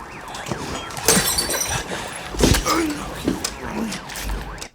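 In a music video, a glass bottle shatters with sharp crashing bursts amid busy music, siren-like wails and voices.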